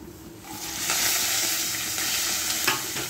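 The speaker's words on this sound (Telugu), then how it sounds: "పోపులన్నీ వేసేసుకుందామండి ఒకసారి." Tempering spices dropped into hot oil for an egg and onion dish, the sizzle swelling quickly into a loud, bright, steady crackle close by, with a stirring scrape near the end.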